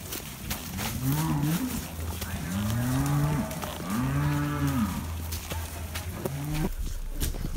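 A young Charolais bull calf moos several times outdoors, long low bellowing calls spaced a second or so apart, fairly close, with a faint final call at the end.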